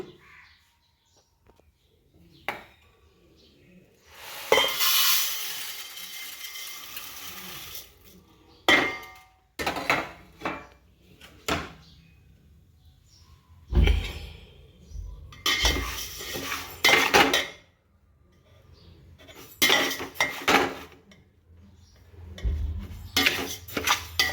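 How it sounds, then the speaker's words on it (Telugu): Navara rice dry-roasting in a pan over a low flame, heard as bursts of scraping and clinking from a metal spatula stirring the grains, with quiet gaps between strokes and no talk. "ఈ నవార రైస్ నేను ఇప్పుడు వేయించుకుంటానండి సిమ్లో"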